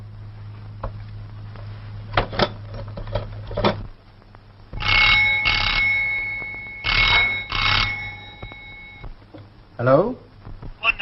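An old-fashioned telephone rings in bursts within a 1948 Hindi film scene, with ringing tones recurring several times over about ten seconds, mixed with background music and room noise.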